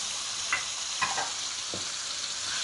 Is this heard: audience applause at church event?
no